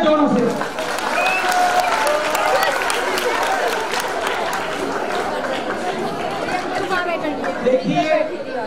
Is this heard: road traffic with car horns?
no